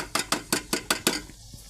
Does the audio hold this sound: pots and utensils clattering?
yes